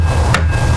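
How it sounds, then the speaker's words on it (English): A brass hammer strikes the underside of a table bonded with 3M 5200 sealant, giving two sharp, loud knocks about half a second apart over a steady low background rumble. "Underneath the table, beating it with a brass hammer and plastic"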